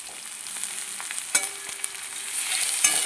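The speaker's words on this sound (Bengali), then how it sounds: "রসুনটা দিয়েও আমি একটু নাড়িয়ে চাড়িয়ে নেব।" Garlic paste and onion frying in a pan while being stirred, a steady close sizzle with occasional scraping clicks and knocks of the utensil, and no voices.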